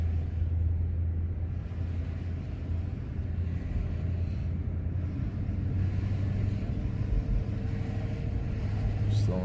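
Mercedes-Benz W140 S420 driving along, a steady low engine and road rumble with a smooth, barely noticeable gear change, heard from inside the cabin.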